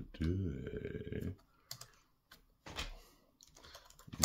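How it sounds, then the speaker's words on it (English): Keys tapped on a Lenovo ThinkPad X220 laptop keyboard in short quiet bursts of clicks, with someone talking close by at the start. "If I go over here and just type hello"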